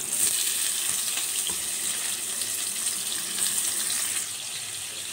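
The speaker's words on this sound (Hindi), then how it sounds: "इसमें हम अनियन को सौते कर लेंगे।" Onions sautéing in hot oil in a wok, a steady broadband sizzle and hiss that holds close and fairly loud for the whole stretch, with no voices over it.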